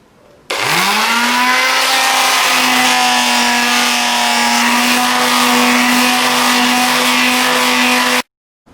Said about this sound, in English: Back on with the electric sander.